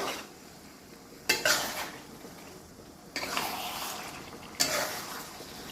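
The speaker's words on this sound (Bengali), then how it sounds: "এবার এটাকে ভালো করে কষাবো।" Stomach curry being stirred and sautéed in a pan with salt and turmeric, with a soft sizzle underneath and a few distinct scraping strokes of a spoon against metal, close by, without speech.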